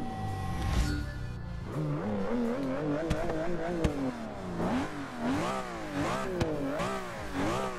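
Aston Martin V12 Zagato race car in the Forza 6 video game, its V12 engine revving and shifting through gears in sustained rising and falling sweeps, loud and continuous with no talk.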